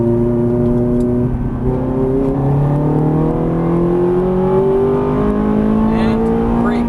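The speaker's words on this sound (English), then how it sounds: "Now throttle." Ferrari 430 engine on a race track, a loud steady roar with rising harmonic pitch as it accelerates under throttle, close and continuous throughout.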